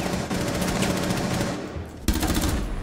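A teammate's gun fires in a video game as one loud, sustained burst of rapid automatic shots. A brief dip comes near the end before the firing resumes at full intensity, and no one speaks.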